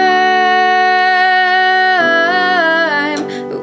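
Piano chords from the chorus of a song in a new order, one long held chord followed by a fresh chord change and a final lighter strike near the end, played alone.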